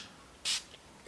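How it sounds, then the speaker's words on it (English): A single short hiss of sheepskin freshener sprayed into UGG boots, one quick close burst standing alone against a quiet room. "The sheepskin freshener, spray it into the boots after each usage, like such."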